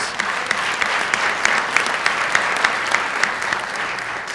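Steady audience applause for the sponsors of a Greek heritage celebration at Brooklyn Borough Hall, a dense patter of many hands clapping at even loudness throughout with no speech.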